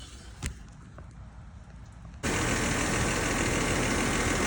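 A 2007 BMW X3 engine cranks after a quiet stretch with a faint knock, then catches and runs with a loud, steady idle to the end.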